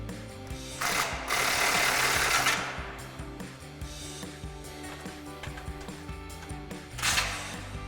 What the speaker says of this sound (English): now we can switch to our 16mm socket to tighten down our 2 side bolts.